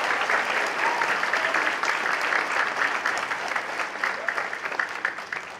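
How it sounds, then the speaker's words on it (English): At a school Veterans Day celebration, an audience applauds the students in a continuous wash of clapping, moderately loud and even, slowly tapering near the end. "Let's give one more round of applause for all of our students."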